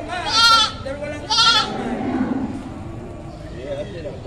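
A billy goat bleats loudly twice in quick succession at a livestock market, close and harsh, followed by quieter bleats as people talk in the background.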